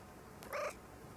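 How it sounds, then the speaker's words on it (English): A single short cat meow, brief and fairly faint, standing out against quiet room noise. "Here's a kitty."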